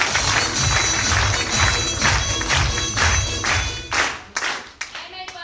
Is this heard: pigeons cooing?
no